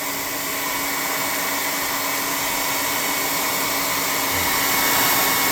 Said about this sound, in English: We'll air dry it. +5 hot air gun burning.